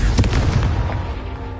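A Confringo fire spell blast in Hogwarts Legacy, a loud close burst of crackling impacts that rumbles out over about a second and a half, with no voices.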